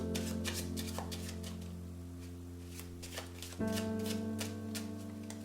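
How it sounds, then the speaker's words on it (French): A deck of playing cards worked in a French shuffle, close rapid flicks and riffles over a sustained musical drone that swells partway through. "On va profiter de ce mélange français pour remettre votre carte dans le jeu."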